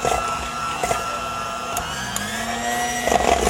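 An electric mixer whirs steadily as it beats eggs and sugar for tiramisu, a close, loud motor drone with a few brief clatters against the bowl.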